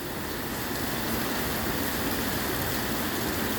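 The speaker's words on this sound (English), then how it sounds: "Ah, it's raining again today." Steady afternoon rain falls in South Pattaya as heard from a hotel room, a dense, even hiss of rainfall that holds constant throughout.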